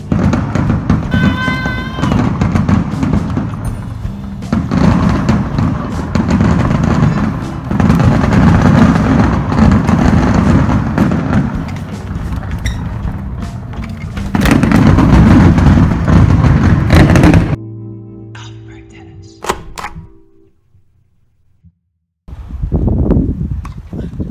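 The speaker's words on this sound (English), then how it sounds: "I leave you with last night's Caribbean fireworks" Caribbean fireworks explode at night in a long volley of loud, sharp bursts and crackles, then fall briefly quiet before another burst rings out near the end.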